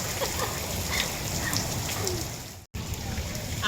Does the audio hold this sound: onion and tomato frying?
no